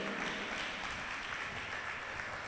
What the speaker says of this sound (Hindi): एक बार ताली बजाओ उस बच्चे के लिए।